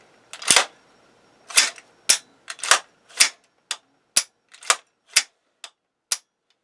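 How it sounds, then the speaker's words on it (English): AR-15 rifle chambered in 5.56 with an ACOG sight being function checked: a series of about ten sharp, close mechanical clicks and snaps from the action and trigger, spaced unevenly with brief silences between. "the final requirement is a functions check on the weapon to ensure that it is a fully functional weapon"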